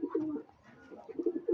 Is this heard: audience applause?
no